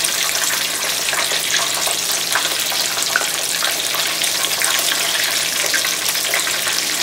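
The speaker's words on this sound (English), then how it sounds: "I'm going to drop these hush puppies in there and let those cook." Hush puppies fry in hot oil at a catfish cook, a steady bright sizzle and bubbling hiss with small pops scattered through it, close and continuous with no voices.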